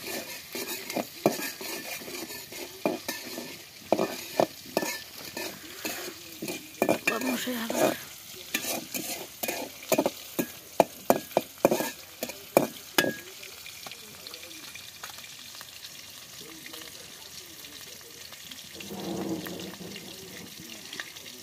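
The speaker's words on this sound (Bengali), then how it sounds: "আমি প্রথমে চিংড়ি মাছগুলো লাল করে নিচ্ছি" Prawns frying in a pan until reddened, with a steady sizzle under rapid, close spoon scrapes and clatters that come in bursts before easing into quieter sizzling.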